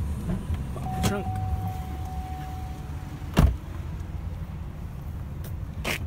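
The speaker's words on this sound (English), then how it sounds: "pop the trunk." The trunk of a 2009 Chevrolet Cobalt LT is released from inside the car, giving a few sharp clunks and a short whine over a low, steady hum.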